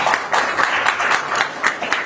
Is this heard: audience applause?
yes